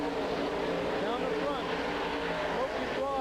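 A late model race car engine at Silver Spring Speedway drones steadily through a turn, with a broadcaster talking over the continuous engine roar.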